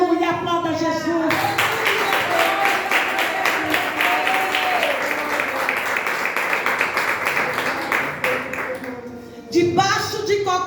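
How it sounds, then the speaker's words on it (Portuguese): Church congregation claps enthusiastically during a worship service, a loud sustained burst of applause lasting several seconds, bracketed by a preacher's voice before and after. "aplauda Jesus"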